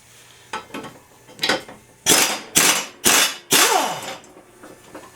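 DeWalt 3/8 cordless impact wrench with a 15/16 socket removing the blade nut on a John Deere E100 series mower. A few lighter taps lead into four loud, close, hammering bursts.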